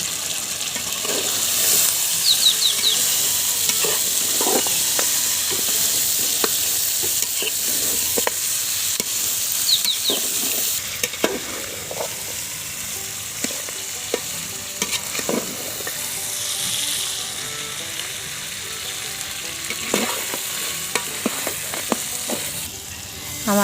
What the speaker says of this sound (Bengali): দেখুন বন্ধুরা, মাংসটা কষাতে কষাতে কিন্তু তেল ছেড়ে দিয়েছে।